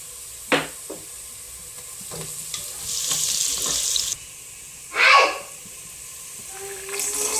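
Onions frying in a pan for pulao sizzle in bursts, with a few sharp stirring scrapes and a louder sweep of sizzle midway, quieter gaps between.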